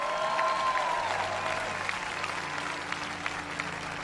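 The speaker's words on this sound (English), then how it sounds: "give the other members of the council another round of" A crowd applauds members of the Los Angeles City Council at a 2017 inauguration, many hands clapping together at a moderate distance. The clapping keeps an even level and does not fade out.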